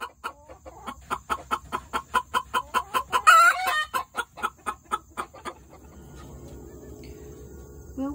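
Backyard hens cluck in a quick, evenly paced series of loud nearby calls, with one brief squawk in the middle, then go quiet over a faint background of insects.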